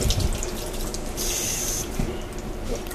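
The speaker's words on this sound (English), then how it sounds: "I'm just going to rinse the bottle off" Tap water runs steadily into a sink while a laundry detergent bottle is rinsed under it, a close, continuous hiss and splash lasting the whole three seconds with slight changes as the bottle moves.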